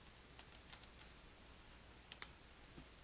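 Keys click on a computer keyboard in a quiet room as a name is typed. The taps are soft and sparse, coming in a short run and then a second small cluster.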